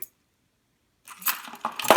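A bunch of old-school Lockwood keys from a lock collection jangles in a short metallic burst after a second of silence, close and fairly loud.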